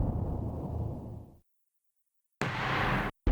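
A heavy judge's mallet in the Ace Attorney: Spirit of Justice courtroom lands one deep, booming thud that rolls out and fades into silence, followed by a second short, bright burst and a clipped final hit.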